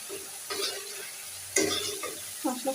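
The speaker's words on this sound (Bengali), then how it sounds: "মশলাটা কষিয়ে নি দেখো মশলাটা কষানো কমপ্লিট মশলা দিয়ে তেল ছেড়ে দিয়েছি অলরেডি" Masala paste fries in oil in a pan and is stirred, giving a few bursts of scraping and sizzling with brief pauses between them, close and moderately loud.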